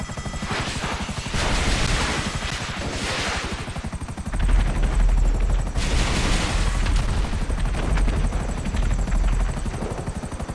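An Akula helicopter in GTA Online roars steadily close by with a thick rotor drone, while bursts of cannon and missile fire crackle beneath it.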